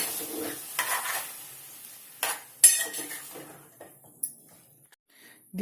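Tomato and dried shrimp curry is stirred in a pan, with a few scattered scrapes and light metal clinks of a spoon against the pan, close but fairly quiet, separated by near silence.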